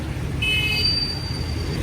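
Loud street traffic forms a steady, close roar with a low rumble, and a thin high whine cuts through it for a moment.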